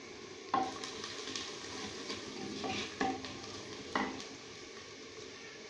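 Cumin, salt, chili and turmeric sizzle softly in a pan for keema karela, with quiet frying under several distinct spoon scrapes and knocks as the spices are stirred.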